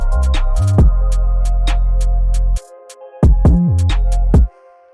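A drill beat melody, pitched down in FL Studio, plays loud and close in choppy bursts: sustained tones with heavy low bass, cut by a sudden gap near the middle and a drop-off at the end.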